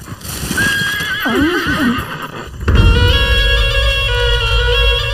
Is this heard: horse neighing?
yes